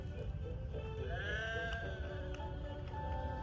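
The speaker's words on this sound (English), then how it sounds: "Some careless sheep strayed onto the line." Sheep bleating in a wavering cry over a steady background hum, moderately loud.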